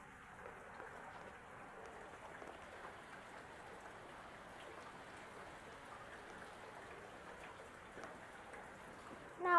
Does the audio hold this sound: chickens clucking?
no